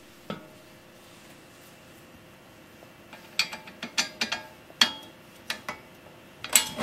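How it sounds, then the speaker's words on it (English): A wrench ratchets a nylon nut onto the main frame bolt of a Funcycle during assembly, giving quiet clicking bursts after a few seconds of near silence, close by and growing busier toward the end. "Tighten the nut up just tight enough so it holds it"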